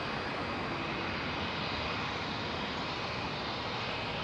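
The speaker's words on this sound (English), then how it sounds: "that Helvetic Embraer E190 was off to Zurich" Helvetic Embraer E190 jet departing Heathrow for Zurich, a steady broadband engine roar, moderately loud and unbroken, with no voices present.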